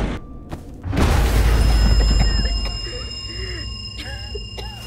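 A mine blast in The Walking Dead video game, a sudden deep roaring explosion that swells and slowly rumbles away, followed by faint debris and ambient sounds.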